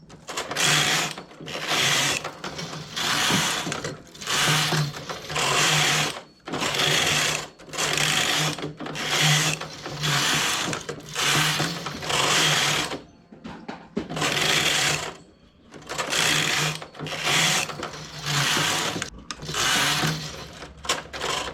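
Sewing machine stitching a seam in fast repeated bursts of about a second each, separated by brief pauses, loud and close with a steady mechanical whir and needle chatter.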